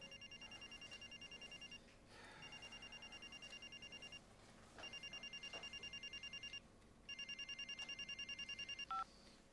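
An old-style telephone bell rings in repeated bursts of about two seconds with short gaps in between, clear and steady in a quiet indoor room, ending with a brief click.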